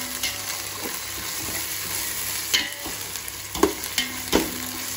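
Onions sautéing with ginger garlic paste in a pan for prawn biryani, a steady close sizzle with occasional sharper stirring scrapes and clicks, no voices.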